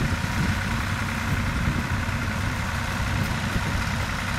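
A big farm tractor idles and chugs along at walking pace, a steady low diesel rumble holding at constant loudness throughout with no voices.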